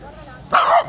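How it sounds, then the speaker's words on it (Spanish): At the Tajamar dam in Alta Gracia, a dog gives one short, close bark or yip that rises sharply out of quiet outdoor ambience. "Acá hay unos perritos."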